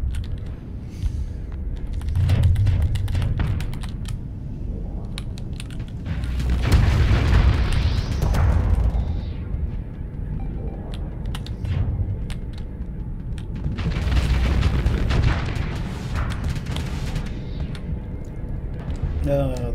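Torpedo explosions in the space combat game Starsector, several deep rumbling booms swelling and fading over about twenty seconds beneath steady engine drone and a talking voice.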